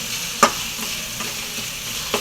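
Tomatoes sautéing in a pan for a lentil kuzhambu, giving a continuous close sizzle with a few sharp scrapes of a stirring spoon, one near the start and one near the end, and no speech.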